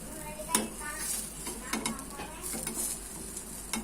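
Egg mixture being spread across a hot pan, with soft sizzling and repeated light scraping and clinking of a utensil against the metal, close and uneven.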